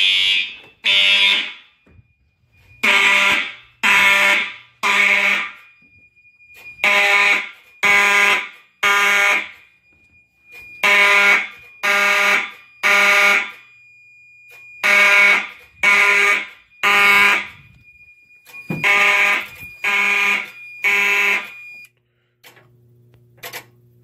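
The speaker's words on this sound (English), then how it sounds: "I can actually hear the wheel lock sync module over there." Fire alarm horns with a Wheelock sync module blare in a system test, loud close bursts in a repeating pattern of three with short gaps, a steady tone running beneath, alone without talk.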